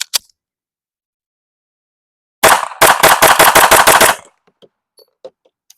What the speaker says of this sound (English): let's go ahead and try 10 shots with this recoil spring